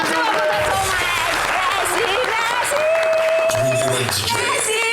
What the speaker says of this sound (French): On applaudit pour